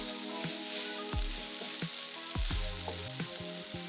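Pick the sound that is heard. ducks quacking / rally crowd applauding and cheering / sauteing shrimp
sauteing shrimp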